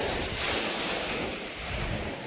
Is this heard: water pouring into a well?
yes